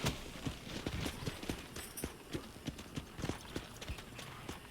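A horse in Red Dead Redemption clip-clops steadily, its hooves striking in a quick, regular rhythm and staying close and clear throughout, with no voices.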